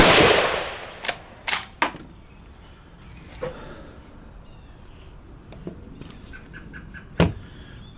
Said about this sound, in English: that was 10 rounds downrange with our Ishapore 2 Alpha 1